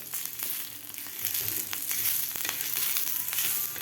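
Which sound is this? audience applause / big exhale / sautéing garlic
sautéing garlic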